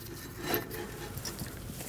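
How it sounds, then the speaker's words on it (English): A brake caliper bracket scrapes and slides over the rear brake rotor of a Nissan NV2500 van, a short metallic rub peaking once, close up and fairly quiet. "Slide your caliper bracket over your rotor"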